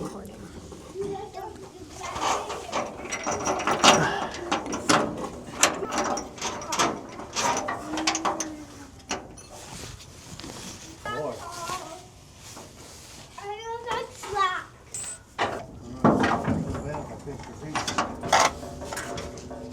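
Ratchet tightening body mount bolts under a Chevy Blazer, repeated clicking bursts up close, interspersed with other clanks and someone talking.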